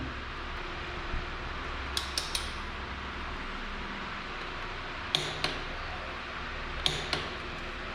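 A torque wrench clicks while tightening the bottom front brake bolt of a Yamaha YZ450FX motorcycle to 22 foot-pounds. Three short bursts of sharp metallic clicks, some doubled, stand out over a steady background hum.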